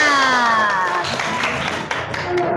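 Schoolchildren in a junior high school lesson break into short, scattered hand claps that follow a sliding, whistle-like tone at the start.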